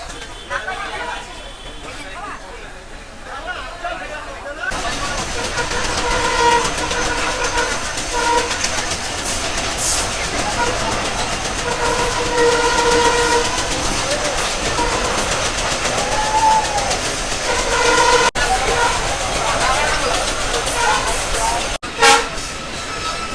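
Mongla commuter train pulling out of Jessore Junction, a steady rumble and clatter of the cars rolling under a busy crowd of voices, with a short horn burst near the end.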